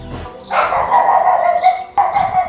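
A puppy lets out one long, strained yelping bark followed by a shorter second yip, close and fairly loud with no talking over it.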